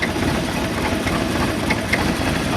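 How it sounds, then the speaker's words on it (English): A car engine with a rebuilt carburetor idles steadily just after starting, after sitting unrun for a month, a close and even rumble with no talking. "Pretty good for an engine that hasn't actually run in a month."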